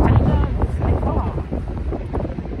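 Strong wind blowing hard at the Kerung–Rasuwagadhi border on the Nepal–China route, a loud rough roar buffeting the microphone, with indistinct voices in the background.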